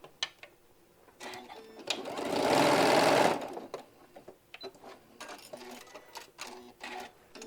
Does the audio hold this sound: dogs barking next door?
no